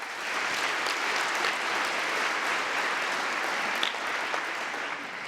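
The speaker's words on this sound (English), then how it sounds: "Final round of applause for them." Audience applause at a live charity fundraising evening, steady and dense for several seconds, filling the room evenly with a slight taper near the end.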